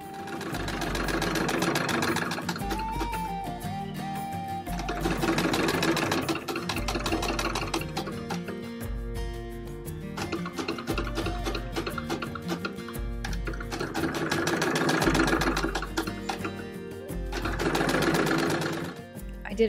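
A sewing machine stitches scrap-fabric gores into an 18th century jacket, running in bursts of rapid mechanical chatter with short pauses between passes, close and fairly loud.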